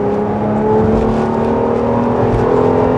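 A Jeep Grand Cherokee L Summit Reserve engine accelerating, heard from inside the cabin as a steady, loud droning hum with a low whir that builds slightly over about three seconds, no voices over it.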